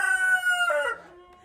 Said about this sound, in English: since these roosters are not letting me talk very much